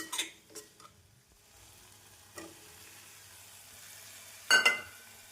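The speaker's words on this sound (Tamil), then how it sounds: "நாம் உருளைக்கிழங்கு பட்டாணி சேர்த்து மீடியம் ஃப்ளேமில் இரண்டு நிமிடம் மெதுவாக கிளற வேண்டும்" Potatoes and peas are stirred into onion masala in a pan over medium flame: a few sharp scrapes and clinks of the spoon against the pan over a soft, faint sizzle.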